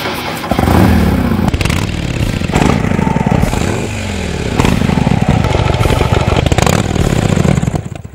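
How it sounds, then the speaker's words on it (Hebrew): A custom motorcycle engine is revved hard several times in a row, each blip swelling and falling back to a rough, loud idle, heard up close with no voices. "אופנוע קסטום אמור להרטיט את כל הסביבה, אבל בעיקר להרטיט לכם את הקרביים ואת הלב"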